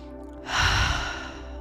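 Slow deep breath during a guided relaxation visualization, a soft rush of air swelling partway through and easing off, close and alone with no talk.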